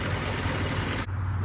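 Honda CRX with a weak battery idling low, a steady close engine drone with a deep throb running continuously and alone until a brief dip near the end.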